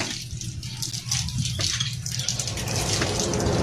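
Water gushing up from the ground under strong underground pressure, a continuous close rushing and splashing flow with no speech.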